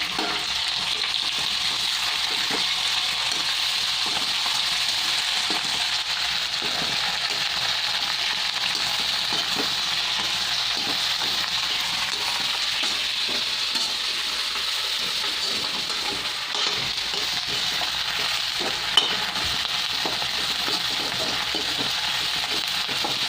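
Pork curry fries in a pan with mustard greens (lai xak) added, giving a steady, loud hiss and sizzle throughout, with faint stirring scrapes underneath and no talking.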